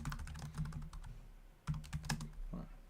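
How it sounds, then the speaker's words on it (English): Typing on a computer keyboard during a live-stream Q&A, a rapid irregular run of clicky keystrokes with short pauses, close and clear with no talking. "Can I keep typing?"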